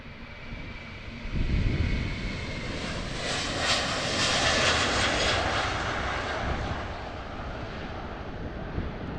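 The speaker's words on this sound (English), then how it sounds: "Boeing 737." A Boeing 737 jet at Amsterdam airport passes with a loud, sustained engine roar that swells and holds, heard alone with slight wind buffeting on the microphone.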